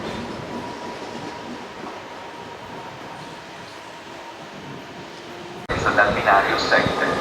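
An ÖBB 1216 Taurus locomotive with an ÖBB/DB Eurocity train rumbles steadily through Verona Porta Nuova station under broadband noise, then a louder, brighter burst of rail and platform sound arrives near the end.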